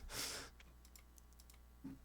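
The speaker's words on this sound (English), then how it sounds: "start typing up stuff in the chat" Keystrokes on a computer keyboard, quiet and close, with a brief burst of clacks at the start followed by sparse faint clicks over about two seconds.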